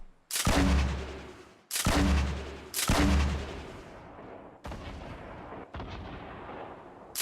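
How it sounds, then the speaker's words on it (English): Grenade launcher blasts in the Fortnite battle royale game: three heavy, booming explosions land in quick succession, each with a rumbling tail, and two weaker blasts follow in the next few seconds. "So I'm bombarding this guy with grenades here because he keeps building up."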